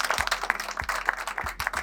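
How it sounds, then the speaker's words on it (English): A union meeting audience gives a round of applause, scattered claps forming a steady wash of clapping at moderate level, fairly close, with a few sharper individual claps standing out. "just give yourselves a round of applause for being here"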